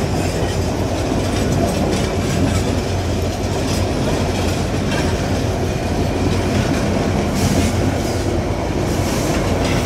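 A meter gauge train pulls into Natore railway station at night with a loud, steady rumble and clatter of rolling wagons that continues throughout, with no voices.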